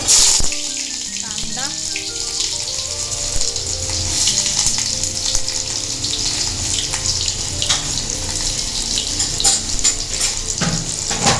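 Steady, loud hissing sizzle of spices frying in hot oil, continuous throughout with a few brief clicks and stirring sounds.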